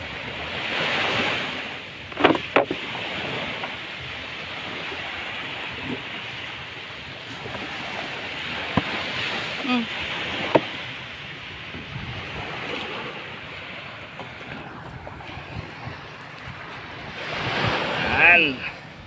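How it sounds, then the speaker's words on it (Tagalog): Steady surf rolls onto a beach with gusting wind buffeting the microphone, a continuous wash of sea noise with a few louder swells throughout. "Dito ka na sa dagat."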